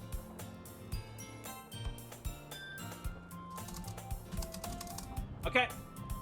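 Typing on a computer keyboard, with irregular bursts of quick key clicks close by, moderately quiet under a low background hum.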